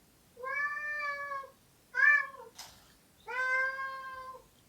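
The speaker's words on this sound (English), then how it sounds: "I've got a cat meowing." A house cat meows three times, drawn-out cries with a short break between each, loud and close, with no talking over them.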